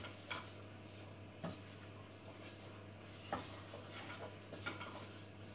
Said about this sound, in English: Give it a good stir through.